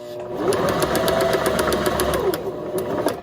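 A sewing machine stitches through paper in a fast, steady run of needle clatter and motor whir, loud and close, with no talking.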